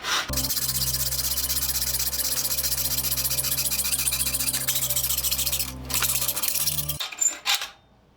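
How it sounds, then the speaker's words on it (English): A hacksaw cuts steadily through aluminum clamped in a bench vise, loud rhythmic rasping strokes close up for about seven seconds before stopping. "I have a hacksaw. Clamp it in the vise."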